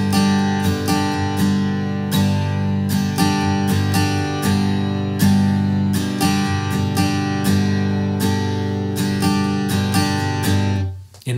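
A guitar shuffle rhythm plays at a quicker tempo, with tight, evenly repeating strokes over bass and treble strings, loud and close, continuing without any voice until it stops abruptly near the end.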